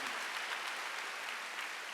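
Church congregation applauding during a Wednesday worship service, a soft, even wash of many hands clapping at a distance, continuous and fairly faint throughout.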